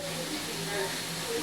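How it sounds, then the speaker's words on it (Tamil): Water boiling in a pot on a kitchen stove before black coffee is made gives a soft, continuous hiss and low bubbling rumble. "தண்ணி கொதிச்சிருச்சு பாருங்க."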